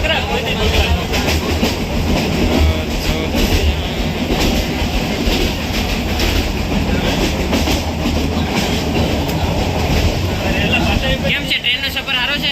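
Inside a moving passenger train, a steady loud rumble of wheels and carriage fills the whole stretch, with rhythmic clickety-clack beneath and faint voices mixed in.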